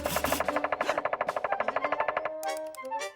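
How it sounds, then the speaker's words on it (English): Cartoon woodpecker pecking at a log in rapid, evenly spaced hammering taps, loud and close, breaking off into a shorter clatter. "I believe this is a woodpecker."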